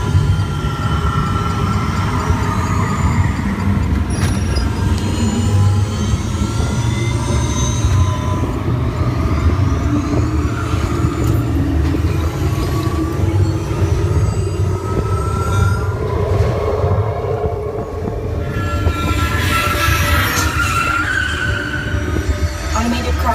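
Test Track ride vehicle at Walt Disney World moving along its track, a continuous rumbling roll with faint squeals and whirs, under an automated announcer voice.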